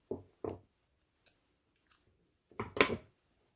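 Scissors snip crochet yarn in a few quiet, sharp, close cuts with short gaps between them, ending in a slightly longer double snip.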